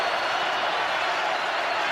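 A football stadium crowd at a Chiefs at Ravens NFL game roars on a third-and-10 play, making a thick, unbroken wash of loud noise for a short burst.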